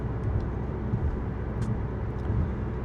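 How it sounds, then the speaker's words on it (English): Constant road noise inside a 2025 Alfa Romeo Tonale hybrid SUV at highway speed, a loud, steady low rumble and tire roar with a few faint brief ticks, no talking. "Over here on the highway, you can see that the road noise is pretty substantial"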